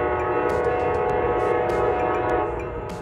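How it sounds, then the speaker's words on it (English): An Amtrak Siemens SC44 locomotive sounds its horn as it pulls into a station, heard from inside the station building as a loud, sustained multi-tone blast ringing steadily over rumbling background noise. "A horn rings out through the station building"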